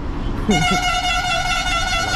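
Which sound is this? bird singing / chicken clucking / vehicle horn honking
vehicle horn honking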